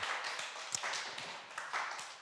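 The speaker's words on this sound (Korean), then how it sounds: "박수 한번 칩시다" A church congregation claps during a Sunday service marking the church's anniversary, scattered separate claps rising and falling in uneven bursts, fairly faint and without speech.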